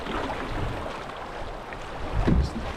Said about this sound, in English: See the currents just roaring along here.